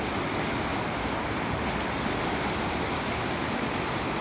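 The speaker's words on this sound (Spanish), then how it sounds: "una gran cantidad de agua en el río." The swollen Nalón river, high after days of rain, gives off a continuous broadband rush of fast water, loud and unbroken, with no voices over it.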